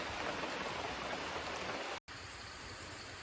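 Steady rain falls outdoors as a dense, even hiss close to the listener. There is a brief dropout near the middle, and then the rain continues.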